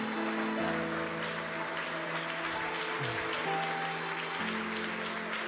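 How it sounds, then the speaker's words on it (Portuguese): Church congregation clapping in praise during a service at the IPDA world headquarters, a sustained wash of hand claps beneath faint sustained tones from instruments or a sound system, holding at an even level throughout. "Uma salva de palmas para Jesus"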